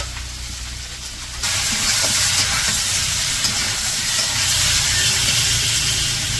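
Fish frying in hot oil in a wok in a Bangladeshi village kitchen, a loud steady sizzling hiss that swells suddenly and then holds constant, with no talk over it.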